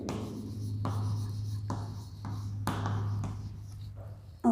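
Pen writing on a page while taking notes during a biology lesson on the animal kingdom, steady scratchy strokes with a few taps, close and moderately loud over a low steady hum.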